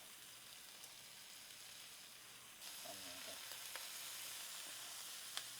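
Onions and ham sautéing in a pan for a quiche give off a steady, soft sizzle that grows slightly livelier partway through, with no voices over it.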